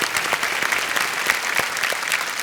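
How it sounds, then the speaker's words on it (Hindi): Studio audience applause on a quiz show set, a sustained dense patter of many hands clapping with no one speaking over it. "एक बार फिर तालियां बज जाएं इनके लिए"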